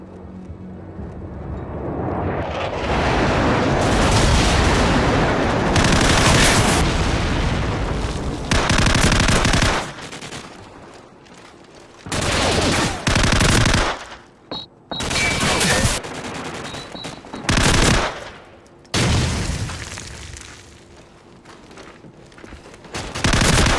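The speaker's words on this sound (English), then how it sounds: "Friendly airstrike on the way." Heavy gunfire and an incoming friendly airstrike in Call of Duty 4: Modern Warfare, loud sustained machine-gun fusillades and booming blasts that cut off abruptly, followed by short sharp bursts separated by near silence.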